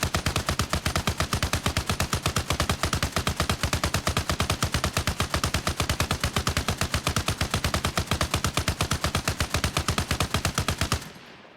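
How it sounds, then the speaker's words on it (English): Sustained automatic gunfire in the Arma Reforger video game, aimed at the rear of a vehicle: a long, steady, rapid stream of loud, close shots lasting about eleven seconds before stopping abruptly. "I'm just going to shoot the vehicle from the rear to see how it"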